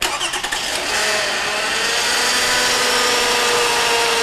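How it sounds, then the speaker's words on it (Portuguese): A car engine cranks and catches, then settles into a loud steady idle, with a faint whine from the power steering pump riding over the running motor, heard close with no talk. "Então nós vamos funcionar o motor para a gente ver se a gente consegue captar o barulho."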